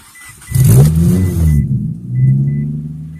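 A turbocharged Mitsubishi Lancer rally car engine cranks and catches with a loud roar, then revs up and settles into a deep, throaty idle before revving again, very close.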